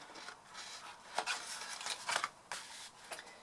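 Scissors cutting through paper for a long gift box, with a few soft separate snips and crisp rustling strokes, close and fairly quiet with no voices.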